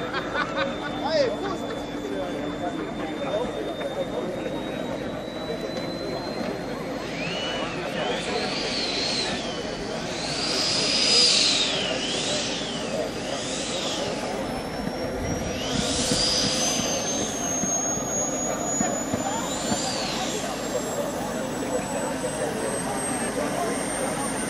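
Antares 18 RC scale glider with electric ducted fan drive lands at a Jetpower trade show, a high, rising fan whine running under a steady outdoor crowd murmur while a man announces over a loudspeaker.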